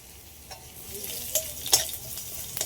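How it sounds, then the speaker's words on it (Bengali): Onion, black cumin and garlic fry in a pan with a soft, steady sizzle, and stirring makes a few light scraping clicks. "সাইড করে দিয়েছি পেঁয়াজটা, দিয়ে কালো জিরেটা একটু এইভাবে একটু ভেজে নিচ্ছি।"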